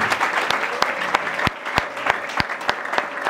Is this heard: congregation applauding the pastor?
yes